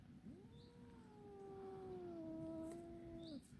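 A cat out on a walk gives one long, drawn-out meow, a wavering caterwaul lasting about three seconds, close and fairly quiet against soft outdoor background.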